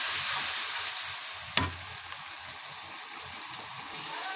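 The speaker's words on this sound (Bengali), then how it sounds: "এখন মশলাটা ভালো করে কষিয়ে নেবার পালা।" Spice paste with turmeric frying and being stirred in a pan over a clay stove, a steady close sizzle with one sharp scrape of the spoon partway through.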